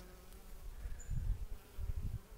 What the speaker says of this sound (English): Here is some bees.